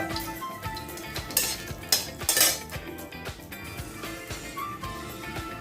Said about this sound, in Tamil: இப்போ கொஞ்சம் கடுகு சேர்த்துக்கலாம் கூட.